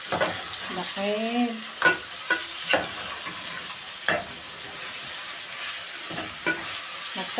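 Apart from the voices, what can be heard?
stirring and frying minced meat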